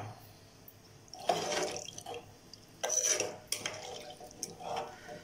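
Water poured into a pressure cooker while making prawn biryani in a home kitchen, with several splashing, pouring bursts and a clink of metal between them, fairly close and moderately loud.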